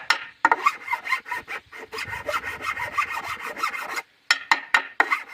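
A hand file scrapes old varnish off a wood board in a fast run of rhythmic, raspy strokes that pause briefly and then resume, loud and close.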